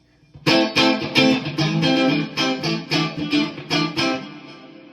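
Clean funk licks on an electric guitar with the neck pickup wired in parallel. Crisp, rhythmic chord stabs come in quick bursts with short gaps, bright and close throughout.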